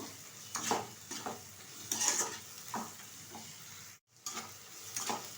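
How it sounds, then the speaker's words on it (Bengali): Chicken pieces with meat masala, chilli powder and salt turned in a pan, a series of distinct scraping spatula strokes with brief pauses over a faint sizzle, close up, one moment of near silence. "ভালোভাবে এবার নেড়ে চেড়ে নেব"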